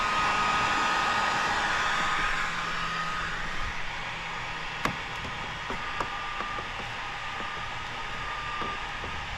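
A heat gun warms paint protection film on the front bumper of a 2025 Chevy, blowing with a steady airy roar that softens partway through, with faint clicks and taps from handling the film.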